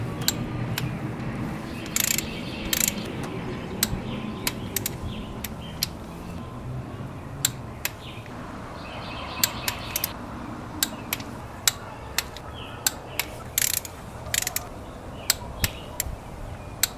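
A ratchet wrench clicks in quick, sharp bursts while tightening engine camshaft bearing caps during a rebuild, the close ticks landing in irregular runs over a low background hum.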